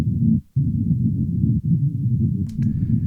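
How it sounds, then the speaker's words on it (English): Soloed low band, roughly 100 to 250 hertz, of a palm-muted electric guitar through a multiband compressor: dull, boomy chugs in a steady run with two brief gaps, thumpy and muffled, no voices. "it's only really grabbing that low woofiness whenever the guitar player is palm muting"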